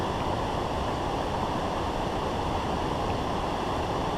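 Waterfall at the Falls of Shin, a steady broadband roar of rushing, crashing water that holds evenly and loudly throughout with no voices.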